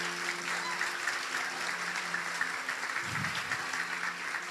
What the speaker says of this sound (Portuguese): você pode aplaudir o Espírito Santo pela vida dos nossos pastores locais